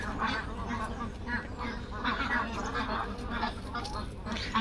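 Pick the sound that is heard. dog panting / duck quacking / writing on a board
duck quacking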